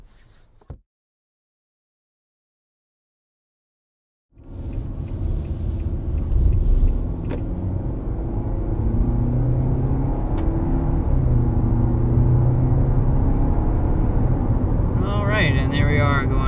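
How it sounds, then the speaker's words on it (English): A 2022 Nissan Altima midsize sedan accelerates hard toward 60 mph. After a few seconds of near silence, a steady, loud interior roar of engine and road noise sets in and holds, rising slightly as speed builds. "And there we are going up to 60 miles per hour."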